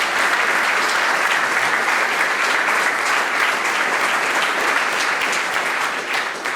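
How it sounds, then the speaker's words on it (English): Dense, steady applause from an audience at an anniversary educator panel evening, loud and continuous throughout before easing slightly at the very end, with no talking over it. "So another round of applause, please, for those three incredible folks."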